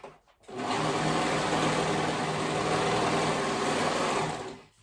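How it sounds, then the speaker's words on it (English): A sewing machine runs a straight stitch along a dress neckline in one steady, close, whirring burst of about four seconds, with rapid needle clatter, no voices. "If you're doing stretch stitch, I will do a straight stitch"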